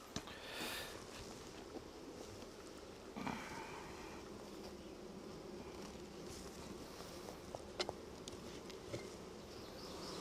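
Honey bees buzz around hive frames holding queen cells, a dense steady hum close to the microphone with faint wind and a few small knocks.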